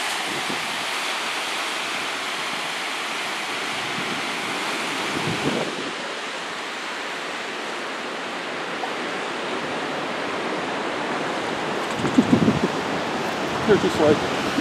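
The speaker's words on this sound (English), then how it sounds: "And there's the Pacific Ocean." Pacific Ocean surf roars as a steady, broad wash of breaking waves, loud and continuous, with wind buffeting the microphone and brief louder gusts near the end.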